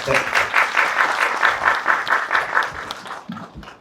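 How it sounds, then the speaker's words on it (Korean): An audience applauds at a 2023 project briefing session in Suyeong, a steady, dense round of many hands clapping that continues for several seconds and tapers off at the end. "저희 답변 열심히 해주신 센터장님과 팀장님들한테 박수 한번 부탁드리겠습니다"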